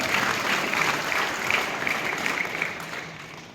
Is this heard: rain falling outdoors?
no